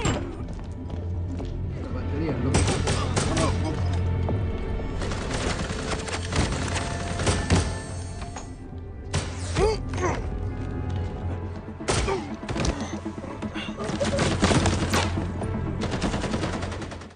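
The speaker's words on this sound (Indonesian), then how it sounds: "Mendengar suara tembakan itu" Dense bursts of gunfire during an intense firefight, rapid automatic volleys mixed with single sharp shots and thuds, loud and continuous for several seconds with voices mixed in.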